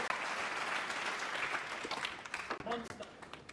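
Snooker crowd applauding Ronnie O'Sullivan's break at the 2018 Champion of Champions against John Higgins: sustained, dense clapping from an indoor arena audience, steady throughout before thinning slightly near the end, with a commentator talking over it.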